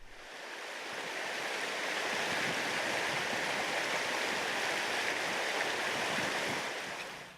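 Strong current of the Sainte-Anne river at Saint-Casimir rushes in a steady, dense roar of turbulent water, loud and continuous throughout with no voices.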